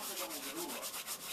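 Dry ingredients being rubbed finely between the hands while making lenten stuffed cabbage rolls, a soft, quiet, continuous scratchy friction with a few faint rhythmic pulses, close and alone.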